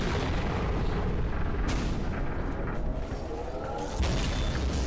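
A gunshot in an animated Skibidi Toilet battle, a dense booming burst of gunfire and explosions that fills the whole stretch, with sharp louder hits near the start and toward the end.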